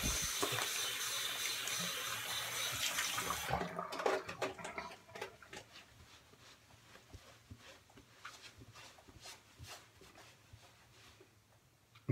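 Running water from a sink tap rinses a shaving razor fitted with a Dorco ST301 blade, a steady close hiss for a few seconds that stops and leaves faint drips and light handling noises.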